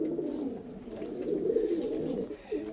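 A pigeon coos in low, rolling, repeated phrases at close range, the throaty burbling continuing steadily throughout with no talking.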